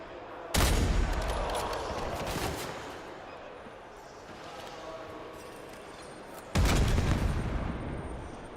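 Gunfire in the Call of Duty video game during a Call of Duty League Major III match: two heavy gunshot bursts several seconds apart, each with a rumbling tail, under steady crowd and commentary noise.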